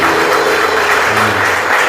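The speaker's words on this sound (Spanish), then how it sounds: "Denle un aplauso, hermano, al grande" A church congregation applauds loudly and steadily through the whole span, a dense wash of clapping with a faint sustained musical tone underneath.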